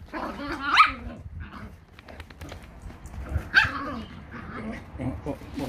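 A small dog barks and yips several times in short bursts close by, with whimpering between, while people talk over it.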